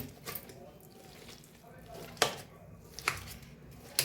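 A knife cuts into soft roasted eggplant, giving a few faint, scattered taps against the board at irregular intervals over a quiet background.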